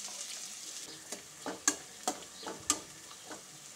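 Spoon stirring mustard seeds, cumin, fenugreek seeds, curry leaves and thecha tempering in a pan: soft sizzle with several sharp scraping clicks, close and fairly quiet, no talking.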